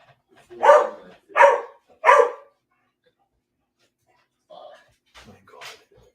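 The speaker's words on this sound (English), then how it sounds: "Your dog hears Punk's dog" A dog gives three loud, evenly spaced barks close by, followed by a pause and then a few softer, shorter yelps and whimpers.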